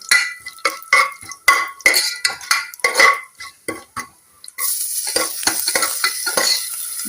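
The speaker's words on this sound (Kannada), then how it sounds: "ಈರುಳ್ಳಿ ಸ್ವಲ್ಪ ಫ್ರೈ ಆಗಬೇಕು" Chopped onions frying with cumin seeds in a pan, scraped and stirred by a utensil in quick repeated strokes that clink against the metal, followed by a louder continuous sizzle, close and with no speech.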